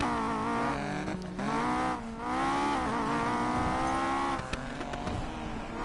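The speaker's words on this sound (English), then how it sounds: "This car does sound a bit flat" A car engine in a video game revs and drives, with rising and falling engine tones through gear changes and a brief tire squeal, close and steady, with no voices.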